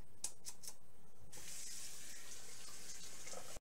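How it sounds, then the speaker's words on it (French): Water runs steadily from a bathroom sink tap while activated charcoal is rinsed away, preceded by a few short splashes and clinks, then a continuous hiss of flowing water until it cuts off at the end. "je pense qu'il faut bien rincer encore"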